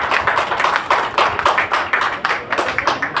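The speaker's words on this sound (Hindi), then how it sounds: "राहुल जी के लिए एक बार जोरदार तालियां हो जाएगी।" Audience claps for Rahul ji at a Dussehra event at the Nirmal Darshan de-addiction centre in Haldwani, a steady patter of many hands with clear individual claps, fairly close, with no talk over it.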